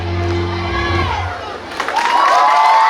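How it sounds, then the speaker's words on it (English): Audience at a Children's Day 2025 event cheering and shouting for their teachers, the crowd noise swelling loudly after a brief dip, with excited children's voices and whoops filling the room. "Can we hear a big round of applause again for our teachers?"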